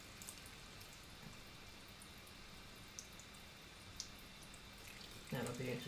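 Water squirting and dripping through a vape atomizer coil head while it is rinsed under a tap, a faint steady trickle with occasional drips, ending in a louder burst of running water.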